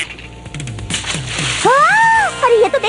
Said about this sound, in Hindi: मेरे दांत पानी में गिर गए